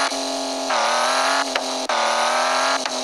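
A car engine revs and drones in a VR Jurassic adventure game, rising in bursts with sharp gear-change dips, loud and close with no talking.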